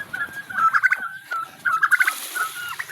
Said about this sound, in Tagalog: Ito yung mga pabo natin